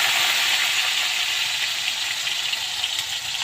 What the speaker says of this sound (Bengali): দেখো আমি ভাজা মশলাটা নামিয়ে তেল দিয়ে এবার আলুগুলো দিয়ে দিলাম।